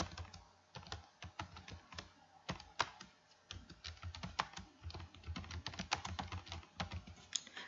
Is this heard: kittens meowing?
no